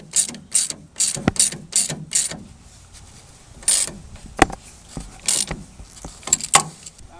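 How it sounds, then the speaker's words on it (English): A ratchet with a 10mm socket tightens the fuel fill line fitting on a 2010 Toyota Tundra, clicking in quick bursts of close, crisp ratcheting strokes separated by short pauses. "reconnect our fill line here. Tighten that down. That's a 10mm socket"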